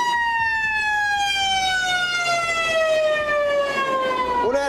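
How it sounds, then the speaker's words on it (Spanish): Ambulance siren wailing loudly and close, a long steady tone sliding slowly downward in pitch as the vehicle passes, with road noise beneath and no talk. "Ya viene la ambulancia en camino, que es algo extremadamente importante."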